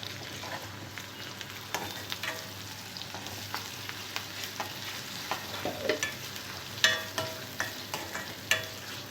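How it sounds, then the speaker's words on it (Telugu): Sliced onions fry in a pan with turmeric and ginger-garlic paste for a tindora masala curry, a steady close sizzle broken by repeated scraping stirs of the spoon, with no talking. "ఉల్లిపాయ ముక్కలు కొద్దిగా ఫ్రై అయిన తర్వాత ఇందులో పసుపు, అల్లం వెల్లుల్లి పేస్ట్ వేసుకోవాలి."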